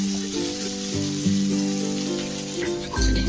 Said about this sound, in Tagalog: Higisa natin ang ating onion hanggang sa hindi mag-golden brown.